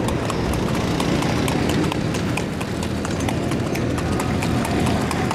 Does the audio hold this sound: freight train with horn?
no